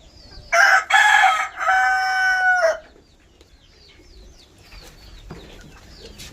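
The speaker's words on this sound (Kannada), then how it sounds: "ಇವರು ಇಲ್ಲಿ ಈ ಕಡೆ ಕೋಳಿಯನ್ನು ಕೂಡ ಸಾಕೊಂಡಿದ್ದಾರೆ ನೋಡಿ ಇವ್ರ ಕೋಳಿ" A rooster crows loudly and close by on a sheep farm built from scrap materials. A long cock-a-doodle-doo is followed by quieter outdoor ambience and faint bird calls.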